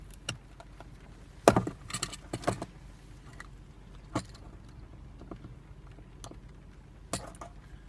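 Removing a lamp from a Golf 7 car produces scattered plastic clicks and taps, with one sharper snap early on and light fiddling knocks spread across the rest.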